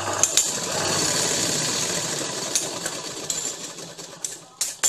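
A sewing machine runs a double line of stitching on dhoti shalwar fabric, a steady close whir with brief pauses and clicks near the end.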